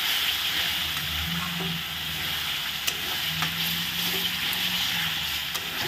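Spice paste for a fish curry sizzles and hisses steadily in a pan, with occasional soft stirring scrapes and a faint voice in the background.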